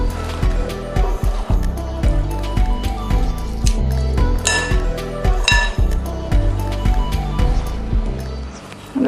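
Vegetables tossed with oil in a bowl make a run of wet squelching stirs and light clinks against the bowl, close and continuous, with no talk.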